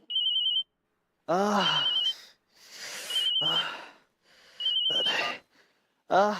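A phone rings with a repeating high electronic tone in four short bursts while calling a priest, alternating with loud, urgent speech nearby.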